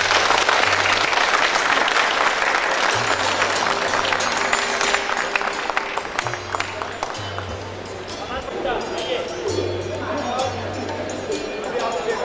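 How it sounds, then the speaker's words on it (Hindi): Audience applause at a public visit event in Nagpur, continuous crowd clapping filling the room, mixed with chatter and a low hum, easing slightly toward the end. "माइक में तालियां बजाते हैं लोग।"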